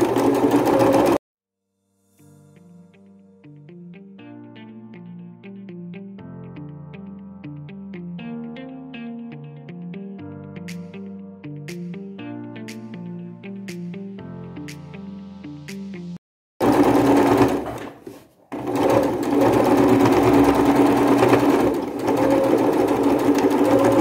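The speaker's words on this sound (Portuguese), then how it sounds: "vou passar uma costura aqui, ó, para não precisar nem ir lá no ferro" A sewing machine stitches a seam across fabric scraps in long steady runs of rapid rhythmic clatter, broken by a short pause, then louder handling noise and rustling at the end.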